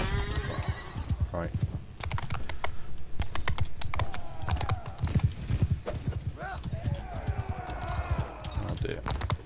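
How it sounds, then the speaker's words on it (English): Horse hooves clop in quick, irregular runs throughout a tournament in Mount and Blade 2 Bannerlord, with a neigh or two and other battle noise. Someone speaks a single word over them. "these horses are going to be our problem"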